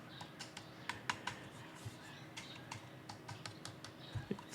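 Light fingertip tapping on the thin, brittle plastic casing of an Annke Crater2 camera gives quick, faint clicks in an irregular run, heard close up with no voice over them.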